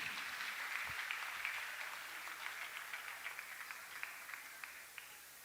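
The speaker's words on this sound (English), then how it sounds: "A round of applause, audience." A faint, fairly distant audience applause at a felicitation session honouring a Mars Orbiter Mission project director, steady at first and then thinning into scattered individual claps.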